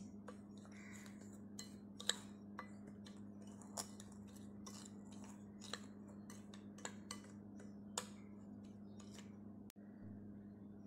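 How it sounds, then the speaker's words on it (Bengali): A spoon stirs dry ingredients, powdered milk and semolina, in a bowl, giving a string of light scraping clicks and taps over a low steady hum. "এবার শুকনো উপকরণগুলো একটি চামচের সাহায্যে ভালোভাবে আমি প্রথমে মিশিয়ে নিচ্ছি"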